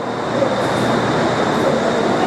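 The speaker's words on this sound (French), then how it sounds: "Et voilà, nous quittons la rame de métro" A Bangkok metro train rolls along at a steady, continuous rumble with a faint high whine overhead, heard from inside the carriage and without any talk.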